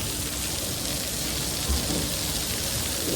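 Heavy summer rain falling in Morbi, a steady dense hiss of downpour that holds evenly throughout, close and fairly loud, with no voices.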